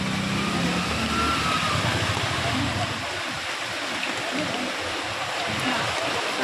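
Flood water rushes steadily through the old bus station in Otur town: a continuous broadband roar of flowing water, close and loud throughout, with faint rumbling underneath.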